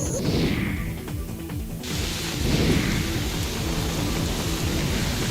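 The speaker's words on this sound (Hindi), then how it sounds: "दिल्ली में भारी बारिश मुसीबतों का सबब बन गई।" Heavy rain pours steadily during a storm in Delhi, with rolling rumbles of thunder rising and falling over the constant hiss of the downpour.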